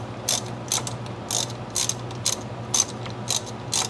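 8mm ratchet tightening the brake hanger pin bolt on a Honda Goldwing rear brake, giving eight evenly spaced bursts of sharp clicking close up over a faint steady hum, with no talking.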